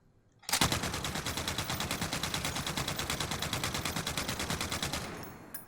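RAAL light machine gun firing in Warzone, chambered in .338 Norma Magnum: one sustained automatic burst of rapid, evenly spaced loud shots lasting about five seconds before cutting off.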